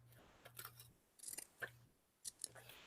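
Scissors trimming a dried handmade craft piece, several quiet crisp snips in an irregular rhythm close up, with soft handling noises between cuts.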